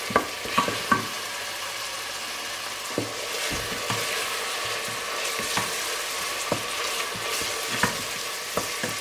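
Aromatics fry in a pan for a vegan Indian chickpea curry, a continuous close sizzle dotted with sharp pops and occasional stirring knocks, with no one speaking.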